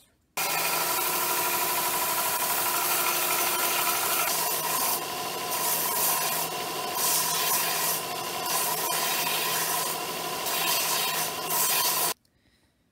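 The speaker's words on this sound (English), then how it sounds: "Now I'm going to sand this down so it's more smooth and not so rough." A metal nail spike being sanded smooth on a power sander, a continuous loud whirring grind that starts abruptly and runs steadily for about twelve seconds, with periodic harsher bursts as the metal meets the abrasive.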